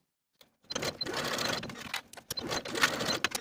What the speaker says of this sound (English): Sew both seams with a 5/8 inch seam allowance